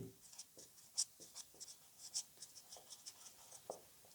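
Chalk or marker writing on a classroom board, faint scratchy strokes and taps in an irregular rhythm, with no talking.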